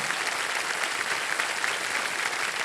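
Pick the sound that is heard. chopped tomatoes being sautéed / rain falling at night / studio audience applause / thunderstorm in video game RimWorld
studio audience applause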